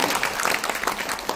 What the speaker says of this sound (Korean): 여러분들 박수 한번 치세요